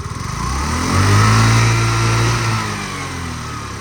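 A Honda Dio AF-68 fuel-injected scooter engine running close and loud, a steady buzzing drone that swells briefly as it revs then settles back, with no talk over it.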